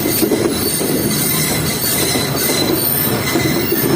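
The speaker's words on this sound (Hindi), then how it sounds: "हमारी ट्रेन है वो एंटर हो रही है रोड़ी जंक्शन रेलवे स्टेशन के" Karakoram Express rolling into Rohri Junction station on a cold day, heard close from the carriage doorway: loud continuous wheel noise with squealing and a steady clatter throughout, no voices.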